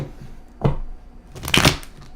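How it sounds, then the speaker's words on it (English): Two brisk bursts of tarot cards being riffled and slapped together, close and fairly loud, with a short pause between. "Bad shuffle. One more."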